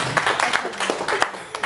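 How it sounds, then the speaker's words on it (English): Scattered applause from a small audience after a presentation, uneven claps of moderate loudness with a few louder hand strikes and some murmuring underneath. "You can clap now."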